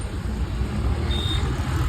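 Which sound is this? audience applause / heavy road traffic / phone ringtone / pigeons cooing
heavy road traffic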